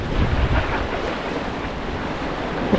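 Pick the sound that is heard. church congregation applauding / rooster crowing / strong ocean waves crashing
strong ocean waves crashing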